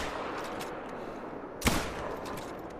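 .270 rifle fired at a whitetail buck in a hunting video game: one sharp, loud, close crack with a short tail, standing out over a steady quiet outdoor ambience.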